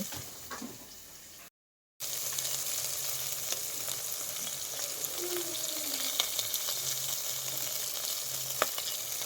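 Cumin, curry leaves and onion fry in hot oil in a pan, giving a steady close sizzle with faint crackles. The sound breaks off in a short silent gap near the start, then carries on evenly.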